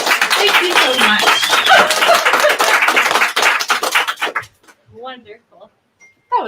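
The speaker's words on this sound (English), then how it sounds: "Can just a big round of applause to everyone here and everyone on the live feed" Audience applause and clapping from a live gathering, a dense wash of claps that runs steadily for about four seconds, then thins out and stops, leaving scattered voices and quiet gaps.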